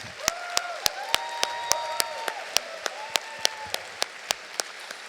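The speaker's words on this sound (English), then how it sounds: "Round of applause." Sharp, evenly spaced claps from only a few hands ring out at an evening customer panel event, forming a steady rhythmic beat over a quiet background with faint tonal sounds.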